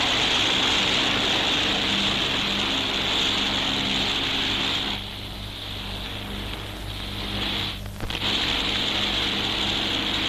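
Loud, steady drone of a 1941 RAF bomber's propeller engines during a test flight, continuous throughout with a slight dip midway, no voices.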